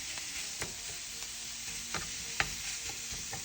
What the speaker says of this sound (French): Maintenant, on va rajouter la viande hachée.